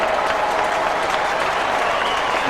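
Steady crowd applause rolls through a 1995 Australian football stadium as Sydney Swans fans clap after a goal against Essendon, a dense, distant wash of many hands.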